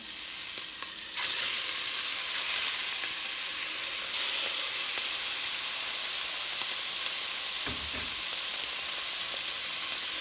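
Beef rolls (German rouladen) sizzle steadily in a hot pan, a constant close hiss with a faint clatter near the end.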